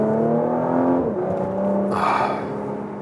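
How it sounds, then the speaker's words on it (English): Porsche Macan GTS 2022 V6 engine revving up and dropping back in a couple of quick pitch sweeps, then a burst of exhaust rush, close and loud with no talking. "Blop, blop, blop. That V6"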